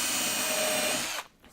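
Power drill boring through wood while building a bandsaw box, a loud steady whine that runs unbroken for over a second, then cuts off abruptly as the bit breaks through, leaving near silence.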